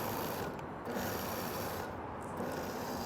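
A KitchenAid food processor pulses a pumpkin spice truffle mixture, giving a loud, close, continuous grinding whir with a slight rattling texture for about three seconds. No one speaks over it.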